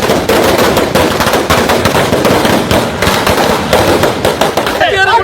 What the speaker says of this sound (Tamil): வாக்கு எண்ணிக்கை நடைபெற்ற மையத்திலும் திமுகவினர் பட்டாசு வெடித்து கொண்டாட்டம்